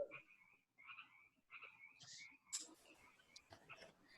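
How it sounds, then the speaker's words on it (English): Several frogs croak outdoors in a repeating series of short calls, faint and distant, with other chirps and clicks joining toward the end and no clear speech. "The frogs will be nice for history."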